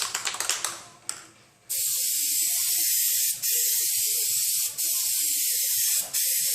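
A spray gun tests its spray before coating a 2005 Honda S2000 with texture. A few quick mechanical taps come first, then loud, close hissing bursts broken by three short pauses.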